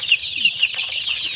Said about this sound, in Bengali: 1 মাস বয়সী ফার্মি মুরগির বাচ্চা